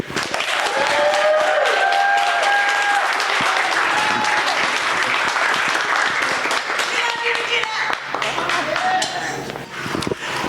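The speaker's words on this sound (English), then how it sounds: "Let us give a huge round of applause for our next County Commissioner, Regina Edmondson." Loud, sustained audience applause at a county commissioner campaign kickoff, dense clapping with cheers and voices mixed in, continuing across the whole stretch.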